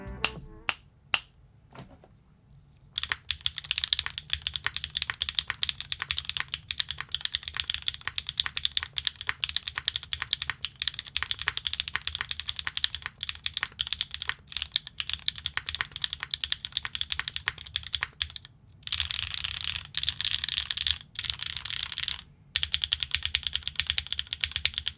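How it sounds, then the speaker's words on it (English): Steady, rapid typing on stock Gateron Summertime switches in a gasket-mounted Qwertykeys Neo65 with no foams and GMK keycaps: crisp clacky keystrokes in a continuous stream, close and clear, with a brief pause near the start. "Let's take a listen to these switches stock in the Neo65 from Qwertykeys in gasket mount configuration"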